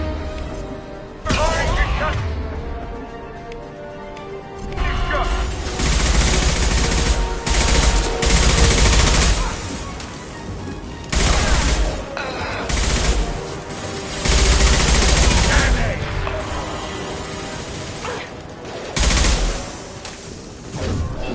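Sustained automatic gunfire in the Mass Effect 2 video game, loud bursts of fusillade repeating across the stretch with brief lulls between volleys, heavy and close, with voices and game sounds mixed underneath.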